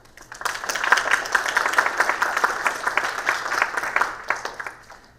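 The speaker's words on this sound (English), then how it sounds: "please give them applause for their hard work" Audience members at a policy forum give a short round of applause: crisp individual claps build quickly, hold for a few seconds, then taper off.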